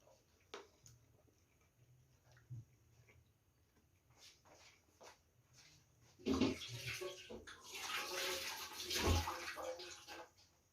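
Tap water runs as hands are washed in a kitchen, a steady splashing rush starting partway through after a quiet stretch with faint clicks and knocks.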